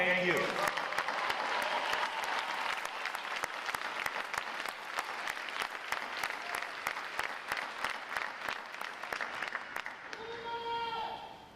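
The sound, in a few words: audience applause for family and friends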